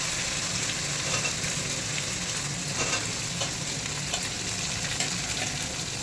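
Onion and curry leaves fry for lemon rice in a continuous, even hiss of hot oil, close and steady with faint occasional stirring, and no one speaking.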